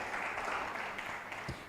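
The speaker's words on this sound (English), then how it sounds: "A round of applause for Doc." Audience applause at an academic fintech and business innovation conference welcome session, a steady dense patter of many hands clapping throughout, fairly close and even in level with no talk over it.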